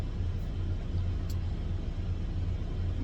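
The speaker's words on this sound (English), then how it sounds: "I know my truck idling right now because I'm just warming it up" A truck engine idles as it warms up, producing a faint, steady low rumble with an even, unbroken drone.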